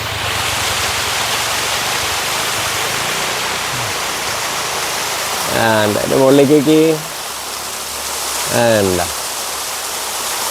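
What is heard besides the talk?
water flowing at Ilaveezhapoonchira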